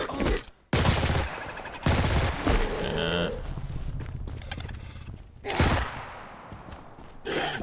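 A PPSh submachine gun in a video game fires in several loud, dense bursts separated by brief gaps, each one a rapid chattering roll of shots.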